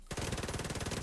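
SMG fire in a video game: one rapid, continuous burst of evenly spaced shots lasting about a second, loud and close.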